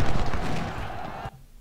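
Troops firing guns in Ultimate General: Civil War during the Battle of Gettysburg, a loud rolling burst of rifle or artillery fire that fades and cuts off after about a second.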